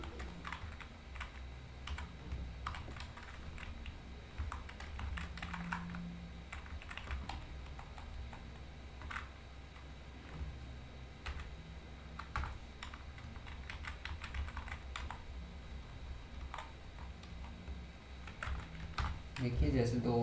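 Steady typing of C program statements on a computer keyboard, a fast run of light, close key clicks continuing for the whole stretch.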